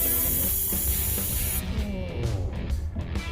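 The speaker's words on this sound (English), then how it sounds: "so it applied the brakes" Truck air brakes apply with a short, loud burst of hissing air that cuts off abruptly, followed by a faint mechanical rattle and clunks.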